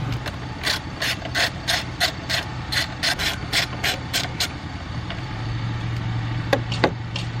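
A ratchet with an extension and 10mm socket clicks rapidly in steady bursts while backing out bolts on a car's front panel, close and moderately loud with no talking.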